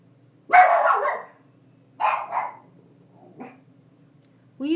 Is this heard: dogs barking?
yes